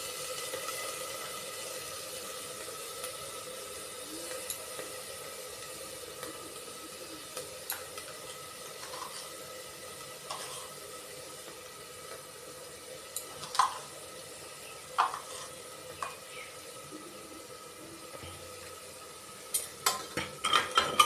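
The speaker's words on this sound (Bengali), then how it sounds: "মটর আর আলু কুচিগুলো আমি এতে মিশিয়ে দেব। এরপর নাড়ব।" Peas and chopped potatoes being stirred in a pressure cooker for yellow pea ghugni, with a soft steady background hiss and occasional brief scraping clinks that grow more frequent toward the end, no talking.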